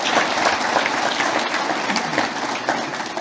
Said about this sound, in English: Give Ryan a big round of applause.